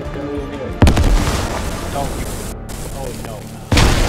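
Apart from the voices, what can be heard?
grenade explosions in a video game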